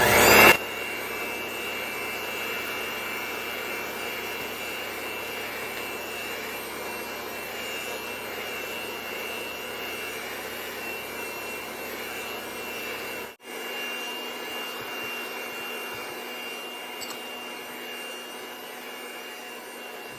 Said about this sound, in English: now you want to start your mixer first before incorporating your eggs and beat well after each